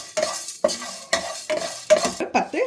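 Fenugreek and spices dry roasting in a pan for Tirunelveli idi sambar, heard as about five distinct scraping stirs, close and fairly loud, with short pauses between strokes and no voices.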